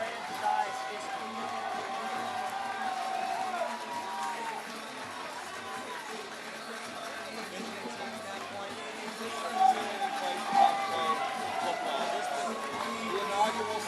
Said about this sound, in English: how happy this crowd is at Nassau Place Stadium to witness the first win in franchise history